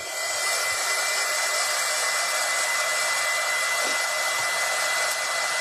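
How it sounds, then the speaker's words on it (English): Hair dryer blowing steadily at close range, a continuous loud whooshing hiss with no pauses, heard during a craft session making a bunny shelf. "I'm going to take my dryer."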